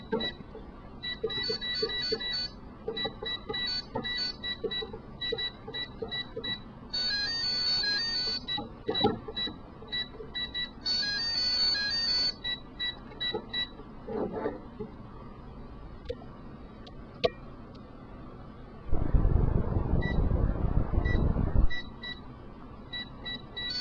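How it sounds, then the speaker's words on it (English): Operation handheld LCD game beeping repeatedly after a level is completed, a run of bright electronic tones in bursts, with a burst of louder low rumbling noise near the end. "it's punishing you for completing the level by like beeping incessantly."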